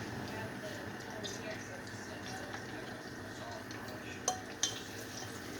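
Unsalted sweet cream butter is stirred around in a pan for southern-style gravy, making a faint, continuous scraping and sizzling hiss with two small clicks near the end.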